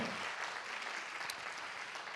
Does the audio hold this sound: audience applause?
yes